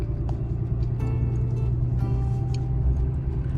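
A car rolls steadily into a residential neighborhood near an Iowa lake, its low engine and road rumble continuous and close throughout, with no one talking.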